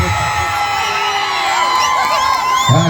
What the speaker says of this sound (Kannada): ಇದು ಜೋರಾದ ಚಪ್ಪಾಳೆ.